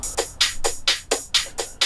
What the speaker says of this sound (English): so I have this closed hat here.